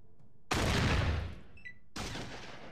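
Pistol fire from the PC game Fallout 1, heard as two loud, close shots, each with a sharp attack and a long decaying tail, about one and a half seconds apart, with no one talking over them.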